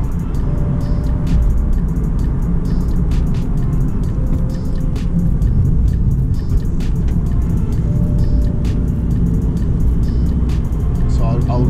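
Engine of a 2016 Nissan 370Z rumbles steadily inside the car while the driver rev matches on a drive, giving a loud, continuous low drone with road noise. A voice is also heard.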